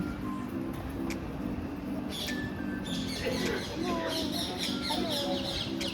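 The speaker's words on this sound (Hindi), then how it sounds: "आज भी यहाँ पर आपको पेड़ के ऊपर बहुत सारे तोते मिलेंगे" Parrots in a banyan tree at the Shukratal temple give repeated sharp chirps and whistles, some close and some further off, over a steady background murmur of people talking.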